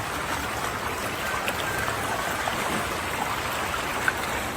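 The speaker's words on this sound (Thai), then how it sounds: "เนี่ยน้ำไหลเชี่ยวแล้วก็ไหลแรง" Strong, fast-flowing floodwater rushes along a street with a continuous turbulent wash. There are scattered small splashes, and the sound is steady throughout.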